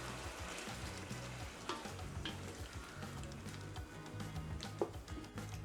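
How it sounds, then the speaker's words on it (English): Shrimp frying in oil in a pan on a stovetop for coconut shrimp alfredo, a steady close crackling sizzle with bursts of popping and occasional stirring clatter, no talk. "it is frying so it cooks evenly"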